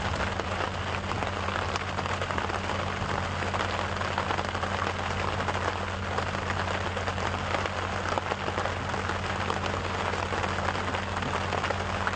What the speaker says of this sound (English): So it's always good to get a little bit of late rain before the dry season.